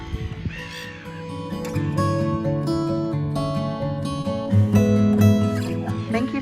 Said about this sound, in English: they are southern black-backed gulls, which are bigger than the average seagull